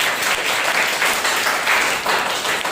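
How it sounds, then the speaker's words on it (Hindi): Congregation at a Sunday morning church service claps loudly, a continuous, full applause of many hands filling the room without pause. "जोरदार ताली बजाएं।"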